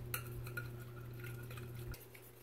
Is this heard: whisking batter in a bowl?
yes